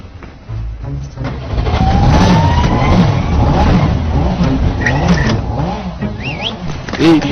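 A car engine revving up and pulling away close by, the drone rising and holding strong before easing off, with some voices faintly in the background.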